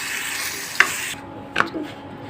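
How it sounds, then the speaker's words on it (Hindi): A spoon stirs and scrapes a keema paratha filling of minced meat with spices and chopped coriander in a pan, giving soft scraping strokes with two brief sharper clinks. "ये मसाले में अच्छी तरह से हमने मिक्स कर लेना है"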